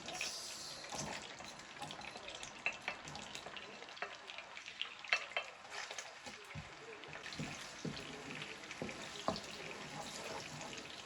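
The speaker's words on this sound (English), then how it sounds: "Fry your onions." Onions frying in a pan for a tomato and ginger stew, a soft constant sizzle with scattered pops and occasional stirring clicks, faint and close.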